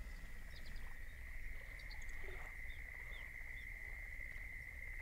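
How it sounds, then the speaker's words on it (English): A tree frog croaking in the fishing video game Fishing Planet, a steady high-pitched trill running continuously over a low ambient rumble, with a few faint chirps and a brief scuttle in the background. "I think it's supposed to be a frog, tree frog, maybe."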